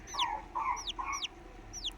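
A young chick cries for its missing mother hen, giving repeated high, downward-sliding peeps about every half second, clear and close against a quiet outdoor background.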